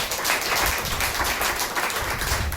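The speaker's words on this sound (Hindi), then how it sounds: "भाई एक बार सर के लिए जोरदार ताली बजा दो" Applause from an audience at a motivational team training session in Agra, a dense, steady wash of many hands clapping together, loud and continuous throughout.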